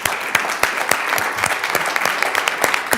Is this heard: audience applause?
yes